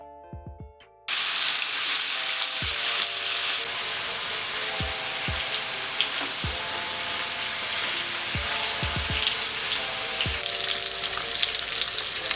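Food fries over medium heat with a continuous close sizzle and crackle, while several short low thuds and clicks recur through it.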